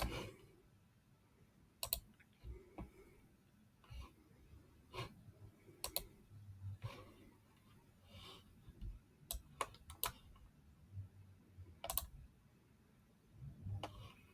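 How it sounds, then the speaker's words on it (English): Sharp computer mouse clicks, a dozen or so at irregular intervals, close and distinct over a quiet room hum with faint low rumble, while someone works in Microsoft Copilot Studio and Application Insights. "let me click on refresh and then scroll down"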